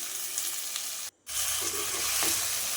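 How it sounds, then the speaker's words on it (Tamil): Cauliflower sautés in hot oil alongside potatoes, a close, steady sizzle and crackle with a momentary drop in sound before frying resumes strongly. "காலிஃப்ளவரையும் நல்லா எண்ணெயில் வதக்கி விடணுங்க."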